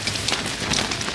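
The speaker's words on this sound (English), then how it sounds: "it's suddenly raining a bit harder" Rain falling harder outside at Burning Man in 2023: a dense, steady patter of drops hitting surfaces nearby, continuous and moderately loud with no voices.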